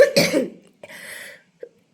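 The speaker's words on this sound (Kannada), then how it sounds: "ಲೈಟಾಗಿ ಕೆಮ್ಮು ಇನ್ನೂ ಕಮ್ಮಿ ಆಗಿಲ್ಲ," A light cough from an adult at home: a sharp first burst, a second rasping cough, then a small faint throat sound, close and alone without talk.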